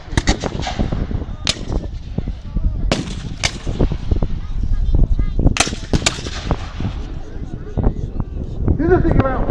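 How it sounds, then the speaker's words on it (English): Black-powder musket fire at a US Civil War battle reenactment, sharp irregular gunshots cracking one after another in continuous fire-by-fire rather than volleys, loud and close over outdoor crowd noise and voices. "What we've got going on now is just constant fire, so they never know what fire."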